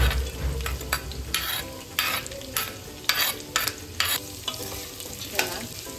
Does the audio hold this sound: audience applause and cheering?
no